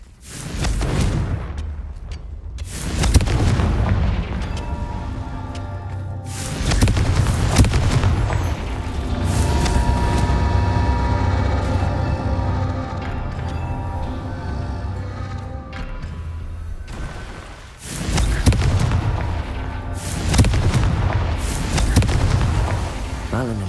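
Confringo spell blasts in the PC game Hogwarts Legacy, loud booming explosions recurring every few seconds over a continuous rumbling in-game soundscape.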